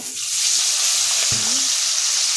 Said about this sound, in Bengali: তেল গরম হয়ে গেছে এবার মাছ দেব